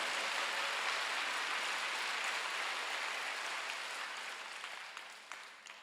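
Church congregation clapping during a Wednesday worship service, a steady wash of many hands that holds evenly and thins slightly toward the end, with no voices over it.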